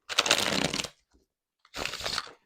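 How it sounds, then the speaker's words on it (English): Two bursts of crisp riffling as a deck of linen-finish tarot cards is shuffled up close, separated by a brief pause with a faint tap. "This one shuffles great, I can already tell you. Perfect shuffle."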